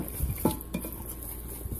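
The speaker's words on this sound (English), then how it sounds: "now I'm gonna stir it up some" A spoon stirs chicken stew with its lemon-juice marinade in a metal pot, a few scraping knocks against the pot, close and fairly quiet.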